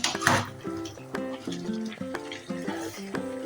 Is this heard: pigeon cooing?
no